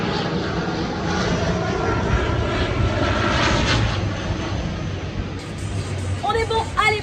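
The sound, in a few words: small airplane flying over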